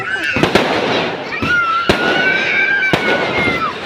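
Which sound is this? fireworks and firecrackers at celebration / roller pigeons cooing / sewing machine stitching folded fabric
fireworks and firecrackers at celebration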